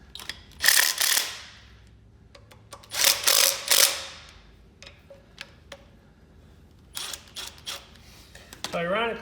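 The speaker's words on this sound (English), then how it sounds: "I have to fish a wrench down in here to get a hold of the nut" A ratchet wrench tightens nuts on the flywheel studs of a 1962 Jeep M170 ambulance engine, giving short bursts of close, rapid clicking separated by pauses, with a voice briefly at the end.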